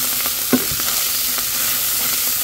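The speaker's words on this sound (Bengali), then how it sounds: "এখন আমি একটু ভাজা ভাজা করে নেব" Pre-boiled minced meat (keema) fries in a pan with a steady, loud sizzle, broken by a few soft scraping stirs of a spatula, with no talking.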